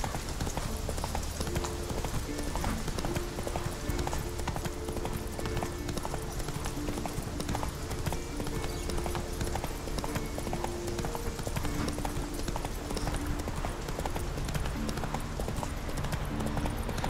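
Geralt's horse Roach gallops in The Witcher 3: Wild Hunt, a fast steady clip-clop of hooves running continuously over game music and ambience, with a voice speaking briefly.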